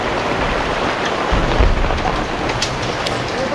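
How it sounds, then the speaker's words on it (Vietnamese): A heavy rain downpour pours steadily at a house construction site, a loud, dense hiss of falling water with a low rumble swelling briefly partway through, continuous and without talk. "Mưa rào luôn rồi."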